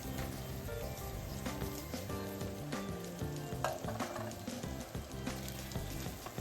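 Diced sausage and rice sautéing and being stirred in a pan for red rice: a steady, close sizzle and crackle of frying with scraping stir sounds throughout, no speech.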